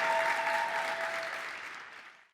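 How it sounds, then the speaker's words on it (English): Steady applause from an audience fills the clip, loud at first and slowly fading out, with a brief tonal whine in the background early on. "please give a warm round of applause and warm welcome to Diana and Anastasia."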